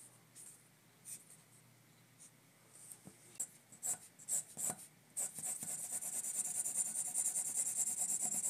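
Jim Lee draws on paper with a pen, and the nib gives soft scratching strokes in short bursts, close and quiet, over a faint hum. A steady hiss rises in the second half.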